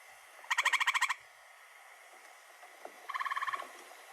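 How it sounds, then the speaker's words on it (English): Tree frog calling in New Hampshire: two bursts of rapid, evenly pulsed trills, each about half a second long, the first louder and the second slightly softer, against quiet background. "this is our only other tree frog that we can find here in New Hampshire"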